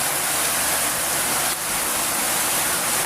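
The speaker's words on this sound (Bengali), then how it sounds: "প্রায় পনেরো বিশ মিনিট আগে এত বৃষ্টি শুরু হয়েছে" Heavy rain pours down at dawn in a dense, unbroken hiss, loud and close, with no voices or other distinct sounds.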